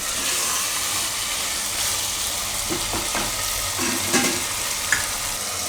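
Masala with lilva beans (fresh hyacinth beans) and potatoes sizzling in a pan for Surti shaak, with a steady frying hiss and a few soft scraping stirs of a spoon partway through.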